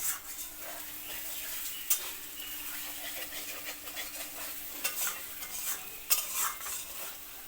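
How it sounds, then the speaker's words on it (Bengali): Meat curry cooking in a pan while its spices are stirred and fried: soft sizzling under repeated scraping and occasional utensil knocks, close and moderately quiet. "দেখো মাংস রান্না হচ্ছে এখন।"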